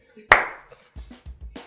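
A single sharp hand clap rings out close and loud, followed by a brief decay, then a few low, soft thuds and murmurs in an indoor setting.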